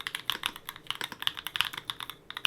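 Brisk typing on a Mode Tempo 60% mechanical keyboard from Mode Designs, with crisp, close clacky keystrokes in quick uneven bursts and no voices.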